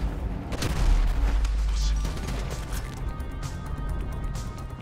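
Gunfire and explosions in the video game Grand Theft Auto 5, a heavy boom followed by a stretch of rattling shots and crashes mixed with a loud, dense game soundscape.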